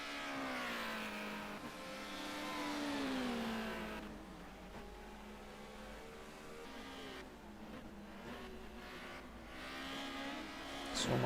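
Touring cars at Oulton Park in a racing video game, their engines whining and rising in pitch as they accelerate, several cars overlapping in a steady, fairly loud drone.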